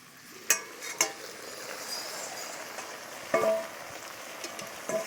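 Spinach being stirred in a pan as it cooks down in its own released water, a soft quiet sizzle with a few sharp clinks of the utensil against the pan and scraping movements.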